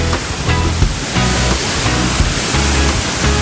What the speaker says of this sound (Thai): นี่น้ำมันแรงมากนะฮะ แล้วก็ลมลมแรงด้วย